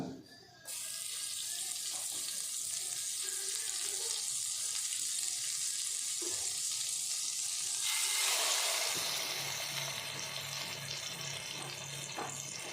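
Butter sizzles steadily in a hot pan while a chicken burger is being cooked, a dense, even hiss that holds for the whole stretch and swells a little louder partway through.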